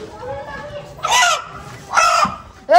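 A live rooster at a village fair gives two loud, harsh clucking calls a second apart, with a brief third call starting at the end, over a quiet outdoor background.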